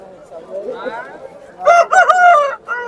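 A Sipayi rooster crows loudly and close at the Gokavaram livestock market, one long harmonic call following a stretch of quieter murmuring voices.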